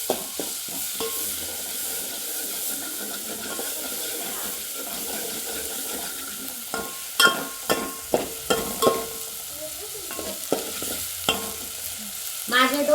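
Masala paste sizzling and frying in a pot for a special mutton curry, with steady background sizzle broken by scraping stirs and a few sharper clatters toward the end.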